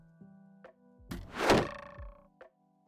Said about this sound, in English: I can barely hear the draw sound at this volume. I can somewhat hear the release, and then I can really hear the impact.